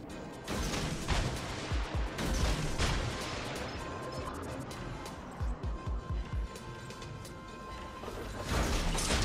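Heavy warship guns boom in repeated volleys during World of Warships Legends gameplay, with loud crashing blasts and rumbling impacts clustered in bursts over continuous battle noise.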